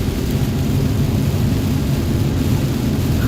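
Thunder rumbling through a storm over Dallas/Fort Worth, a heavy, steady low roar mixed with broadband rain-like noise, loud and unbroken throughout with no talking.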